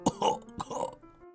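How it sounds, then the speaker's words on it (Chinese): A chimney coughing in a children's story, performed as a voiced sound effect: several short, rough, guttural coughing bursts close up, the last trailing off quietly. "烟囱一阵咳嗽"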